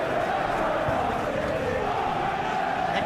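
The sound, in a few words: stadium crowd in the video game PES 21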